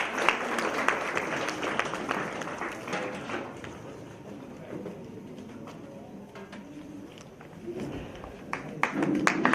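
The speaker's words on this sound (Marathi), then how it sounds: "जोरदार टाळ्या वाजवायच्या आहेत." Audience applause at a kirtan felicitation ceremony, a dense wash of clapping hands that eases in the middle then swells again toward the end, with faint voices mixed in.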